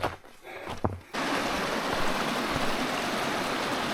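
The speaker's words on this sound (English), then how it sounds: "At the top of the waterfall" A waterfall and mountain stream rush at Loch Coire Mhic Fhearchair on Beinn Eighe in the Scottish Highlands. After a quieter second with a few small sounds, the roar swells into a loud, steady, close wash of falling water.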